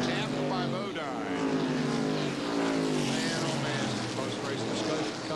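NASCAR Supertruck race trucks roaring around the Richmond track in 1995, a dense, continuous engine drone with shifting pitch as the pack squeezes past, with a commentator talking over it throughout.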